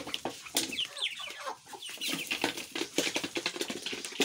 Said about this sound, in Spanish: Vamos a darle el primer alimento del día a las gallinas